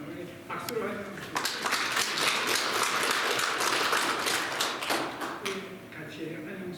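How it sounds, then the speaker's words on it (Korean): A church congregation claps to welcome newcomers at a Sunday service, a broad wash of applause swelling for several seconds and then fading, with talk heard around it. "우리 박수로 하죠"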